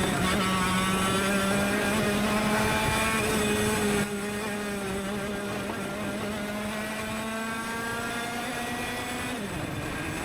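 A TKM retro kart's two-stroke engine drones loudly on the Hooton Park track, holding a steady buzzing pitch with wind rush, easing slightly partway, then dropping sharply as the driver brakes near the end.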